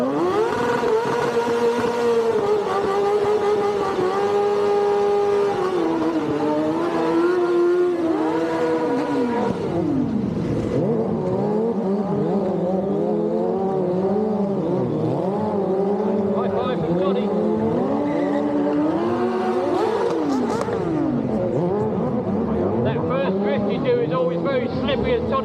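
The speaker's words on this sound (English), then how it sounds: "Are you guys ready for a bit of drifting and a bit of smoke" Drifting car at a bike show, its engine wailing and revving continuously with rising and falling pitch as tyres squeal and slide on a slippery surface, loud and close throughout with a commentator talking over it.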